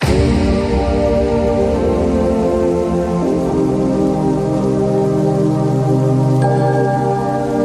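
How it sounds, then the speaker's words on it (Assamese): Steady, heavy rain in the Meghalaya hills drums loudly and continuously on a nearby surface, a dense hiss with no voices. "বৰষুণ এইফালে উৰি যাই আছে"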